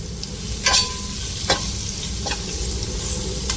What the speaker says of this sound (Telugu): వేయించుకున్నాం ఆనియన్ వేగిపోయింది కదా